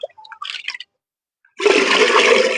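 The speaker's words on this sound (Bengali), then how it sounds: "আমি নর্মাল জল দিয়ে দিব তিন মগ দিলাম" Plain tap water pours from a mug in a steady, loud rush for about a second, mixing with a homemade health drink meant for garden plants, after a few faint scattered clinks and knocks.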